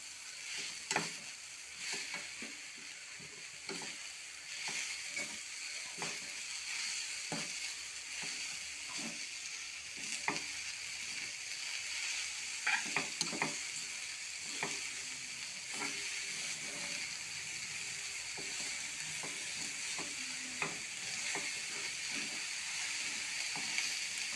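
Ingredients sizzle and fry steadily in a hot pan while a utensil stirs and scrapes through them in irregular strokes, close and fairly loud throughout with no talking.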